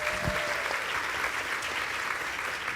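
Applause from a conference audience after a sleep health panelist is introduced, a dense steady wash of clapping at even loudness throughout, with a brief low thump near the start.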